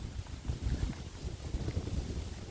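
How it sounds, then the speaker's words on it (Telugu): Gentle wind blowing outdoors over a scenic rural landscape, a steady low rumbling gust against the microphone that swells and eases without pause. "సన్నగా గాలి వేస్తుంది"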